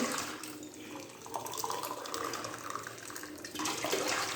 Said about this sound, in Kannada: ಇವಾಗ ನಾವು ಆರು ಲೋಟ ನೀರು ಹಾಕ್ತಾ ಇದ್ದೀನಿ